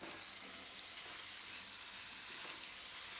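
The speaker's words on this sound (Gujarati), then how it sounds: "એકાદી વાર આપણે આને ફેરવી જોઈ લઈશું સંભારો." Gujarati ridge gourd and potato sambharo sizzles softly in a pan as it is stirred, a quiet, steady frying hiss with faint scraping.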